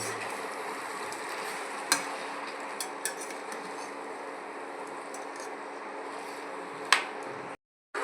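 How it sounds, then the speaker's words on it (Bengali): Meat and potatoes are stir-fried with spices in a pan, giving a steady, moderate frying hiss with occasional sharp clicks of a utensil against the pan, and no voices. "মাংস কষে নেওয়া হচ্ছে, মাংস আলু কষে নেওয়া হচ্ছে।"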